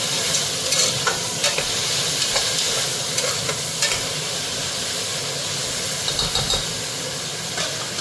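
Three medium tomatoes with curry leaves fry in a pan for a Kadaknath (black chicken) curry, giving a steady close sizzle and hiss with occasional scraping stirs throughout.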